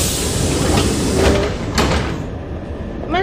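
Train sliding doors closing in a Japanese train video game, a loud close pneumatic hiss and sliding rush ending in a thud, with no talk over it.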